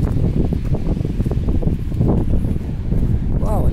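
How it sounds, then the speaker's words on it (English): Heavy wind roars and buffets the microphone continuously while a person talks underneath it, and a brief whistling tone rises near the end. "Wow, it's windy up here."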